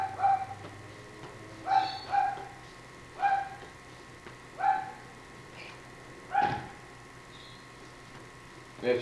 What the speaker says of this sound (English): I don't know why our neighbors let him bark a lot.